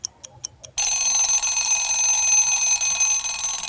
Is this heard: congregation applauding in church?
no